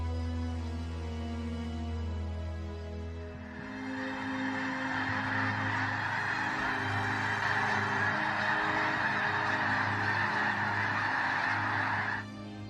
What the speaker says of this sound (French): Les oiseaux sont parmi les créatures les plus fascinantes sur Terre.